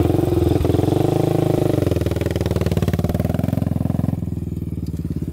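A Honda 400ex ATV engine runs while riding, a loud, close, rhythmic buzzing pulse that rises slightly in pitch and shifts to a rougher throb toward the end.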